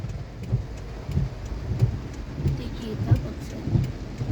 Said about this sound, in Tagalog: Medyo malakas ang ulan talaga